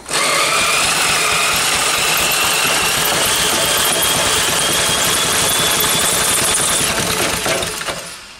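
An old petrol engine of unknown make being started and run, a loud steady mechanical clatter and whirr that holds for several seconds and then fades as it slows.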